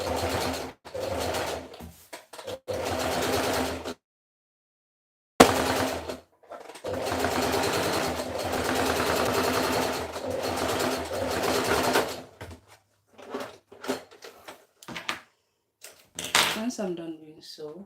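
A sewing machine stitches fabric in long steady runs broken by short pauses, a close mechanical whir with a few brief clicks and taps near the end.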